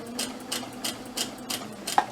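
A sewing machine stitches fabric for a homemade face mask in short, regular bursts about three times a second, close and clear over a low motor hum, with a small click near the end.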